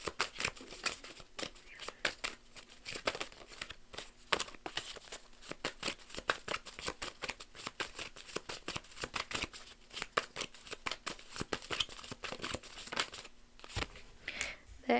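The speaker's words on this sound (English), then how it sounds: "Cards just are going everywhere." Tarot cards handled and shuffled for a reading, a long run of dense papery riffles, flicks and slaps, close and continuous with brief pauses, over a faint steady hum.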